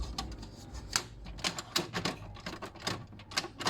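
An Epson L3251 inkjet printer running after a reset, giving a close, busy run of sharp mechanical clicks and clacks in an irregular rhythm, with a low motor hum underneath.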